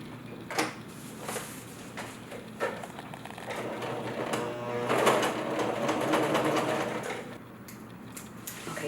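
A sewing machine stitching a yoga bolster cover, heard as short bursts of mechanical running with clicks between them, then a longer continuous run in the middle before it stops, close by with no talk.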